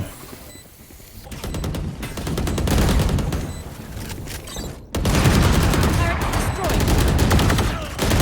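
Rapid bursts of Valorant gunfire during a tournament match, loud and dense volleys with a brief cut midway, under an excited caster's commentary.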